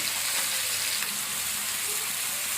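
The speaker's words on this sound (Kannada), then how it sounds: "ಇದು ಚೆನ್ನಾಗಿ ಫ್ರೈ ಆಗಬೇಕು." Sliced onions with green chillies fry in a pan for an Uttar Karnataka-style green tomato chutney. The oil sizzles and crackles steadily up close with no pauses, and no one talks over it.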